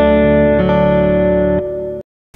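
A modified Bell and Howell Filmosound 385 projector amplifier sustains a loud, close sustained guitar chord drenched in reverb, which shifts midway, then cuts off into a brief silence before a faint new attack.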